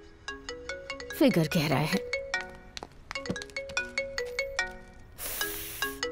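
A melodic phone ringtone chimes in a repeating pattern of bright tones, with brief bursts of speech and noise cutting in over it.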